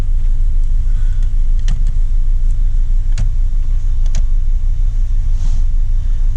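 A Volkswagen Rabbit's engine runs at a cold start with a loud, steady low rumble close by. A few sharp clicks and knocks stand out over the idle, and no one speaks.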